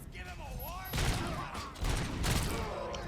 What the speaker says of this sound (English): When you shoot a weapon, you can hear like the sound, the feedback on the screen.